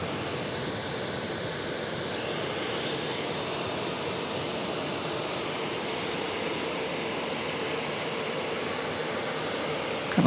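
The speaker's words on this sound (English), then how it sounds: "Flight 2669 off to Reagan Airport in Washington." A Boeing 737-700 jet airliner departs Dallas Love Field, its engines a steady, broad, distant roar that holds evenly for the whole clip.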